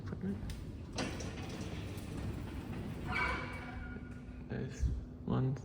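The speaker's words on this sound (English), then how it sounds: "The original door equipment." Original Johns Perry door equipment on a modified Otis traction lift at 324 Queen Street, Brisbane, runs with a steady mechanical rumble and hum, broken by several clunks and knocks.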